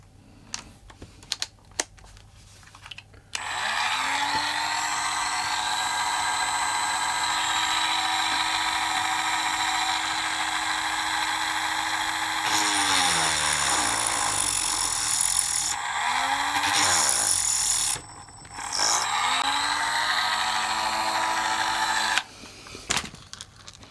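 A small drill boring a 1.7 mm hole into the top of a model locomotive coupling rod for a DJH 2MT 2-6-0 kit, a steady high whine running for about twenty seconds with a few brief dips and pitch shifts.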